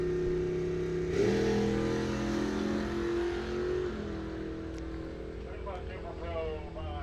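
Drag racing cars, including a Pontiac Ventura, launch at a bracket race: a loud engine drone surges and revs at the start, then carries on down the track, with an announcer talking over it.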